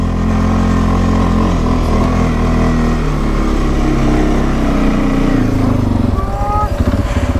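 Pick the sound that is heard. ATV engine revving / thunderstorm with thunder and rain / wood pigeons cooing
ATV engine revving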